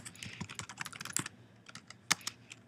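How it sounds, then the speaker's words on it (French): Rapid typing on a computer keyboard, a dense run of close, crisp key clicks that stops briefly and then resumes with a few louder taps. "je tape mon commentaire."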